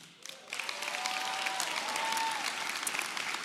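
Audience applause at a university commencement ceremony thanking the director of events, rising quickly and continuing steadily with a faint cheer in the crowd.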